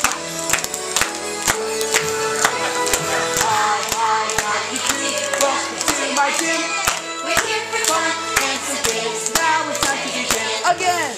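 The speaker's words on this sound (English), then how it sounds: "And everybody say, happy birthday, Kevin! And clap those hands." Children and adults at a children's birthday party clap their hands in a steady, loud rhythm, sharp claps repeating roughly every half second over party music and chatter.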